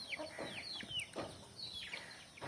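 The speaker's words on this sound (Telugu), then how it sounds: "మన దగ్గర ఉన్న పెట్టలు చూడండి ఎలా ఉన్నాయో." Breeding-season country hens clucking in a poultry yard, a few short rising and falling calls in irregular bursts, fairly faint and a little distant with no voices.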